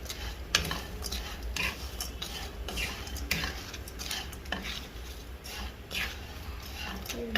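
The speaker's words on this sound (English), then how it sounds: "And you have to caramelize and then mix it up." A sugar mixture caramelizes for salted butter caramel instant noodles, with repeated clattering stirs and scrapes of a utensil against the pan over a low sizzle, close and busy, with voices faintly present.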